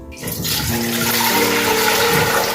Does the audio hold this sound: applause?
no